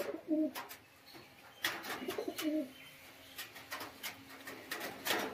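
Pigeons in a pigeon loft giving soft low coos in a few repeated bursts, near but fairly quiet, with light rustling and clicks between calls.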